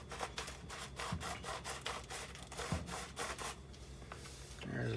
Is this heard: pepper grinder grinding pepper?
yes